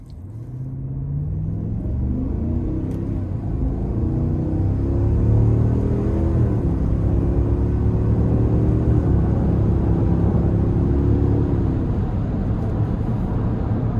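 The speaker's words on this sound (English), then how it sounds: "Gonna give myself a little bit of space to give it a pull." A 2026 Cadillac Escalade Sport accelerates hard from inside the cabin, a loud low engine rumble building as the revs climb steadily, then easing into a sustained drone with a gear change partway through.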